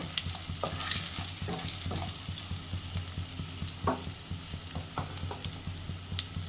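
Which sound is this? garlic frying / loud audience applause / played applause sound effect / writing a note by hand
garlic frying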